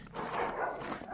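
Dogs at a neighbouring house bark in a short muffled burst on a snowy day, distant and dull with a brief yip-like edge.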